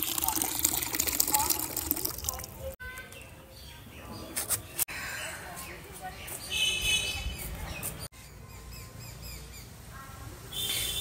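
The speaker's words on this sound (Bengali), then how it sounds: "জলটা দিয়ে দিলাম, দেখো পরিষ্কার জল দিয়েছি" Clean water being poured out at home, splashing and trickling irregularly in the foreground with birds cooing nearby and brief handling noises.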